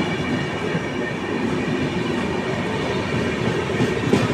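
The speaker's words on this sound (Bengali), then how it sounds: "এর সিগন্যাল দিয়ে দিয়েছে আমাদের ট্রেন ছাড়বে।" Puri Shalimar Garib Rath train (ICF coaches) moving on rails near Kharagpur, a loud continuous rumble with clickety-clack of wheels and faint squeal, heard close and steady throughout without speech.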